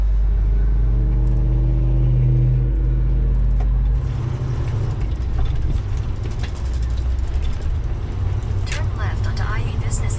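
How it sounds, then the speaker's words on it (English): A car pulls out into road traffic, its engine rumbling close and steady, then a broader wash of road noise and passing vehicles; a voice speaks briefly over it. "Tricky getting out in this traffic."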